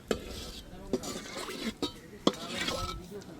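Pots, pans and utensils clink and knock in a Sundarbans kitchen while cooking goes on, with several sharp metallic taps over a low rustling background and faint voices.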